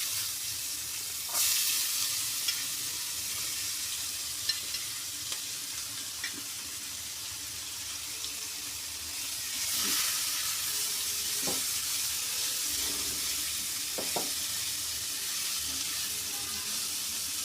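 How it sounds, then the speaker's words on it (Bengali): Bottle gourd peel and potatoes frying in oil, a steady broadband sizzle that flares up loudly as the food goes in, with occasional stirring clicks and faint scrapes. "আলু আর লাউয়ের ছোকলাটা আমি তেলের মধ্যে দিয়ে দিচ্ছি।"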